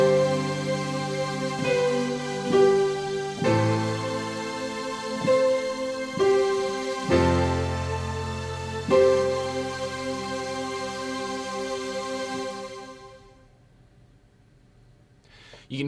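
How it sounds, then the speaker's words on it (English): Keyboard playing the Name Epic Synth patch, bright sustained synth chords changing every couple of seconds with energetic high notes, loud and alone, then ringing out into silence. "And this particular synth right here is called Name Epic Synth"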